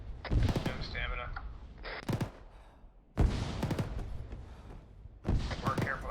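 Gunfire rings out from the east in a military video game, with sharp, loud shot bursts and thuds in clustered volleys separated by short pauses while players talk over it.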